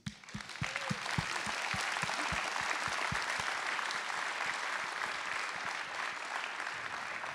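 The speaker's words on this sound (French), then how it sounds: "nous avons le plaisir d'accueillir sur scène, sous vos applaudissements, Madame Monique Cassol, sa présidente" A theatre audience at a French New Year's civic ceremony breaks into sustained applause to welcome a guest onto the stage, a dense, even wash of clapping that swells quickly and holds for several seconds.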